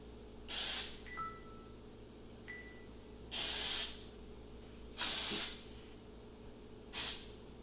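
Four short bursts of cooking spray hiss close by onto a baking pan, separated by pauses, with a couple of faint thin tones between the first sprays.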